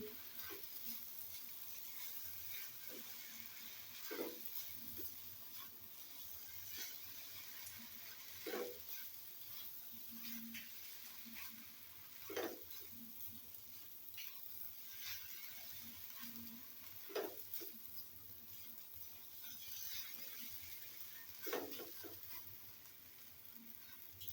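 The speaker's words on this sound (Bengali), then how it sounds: "ভালো করে আমি চালটাকে কষিয়ে নেব।" Rice frying in a pan with two cinnamon sticks and three cardamom pods for khichuri, a faint, low sizzle broken by soft scraping stir strokes every few seconds, with no talking.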